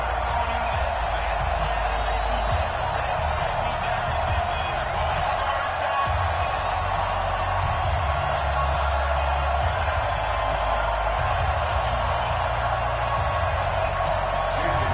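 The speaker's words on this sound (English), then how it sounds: "And in front of a raucous crowd, this one is underway." Crowd noise from a Madden 20 football video game simulation between the Miami Dolphins and Indianapolis Colts: a steady, dense roar of cheering fans throughout, loud and continuous with no clear breaks.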